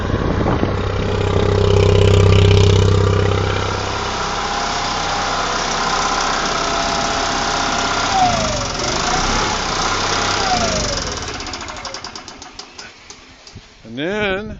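A standby generator runs with a loud, steady mid-pitched engine drone that swells early and then settles, with rising and falling mechanical tones and a final rattle as it winds down.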